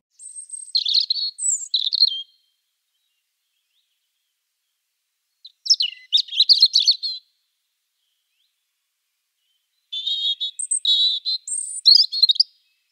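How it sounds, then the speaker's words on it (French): A European robin sings three separate high, complex phrases of rapid twittering notes, clear and close, with silent pauses between them. "le rouge-gorge, donc qui paraît très simple comme ça, a un chant que que je trouve extrêmement complexe"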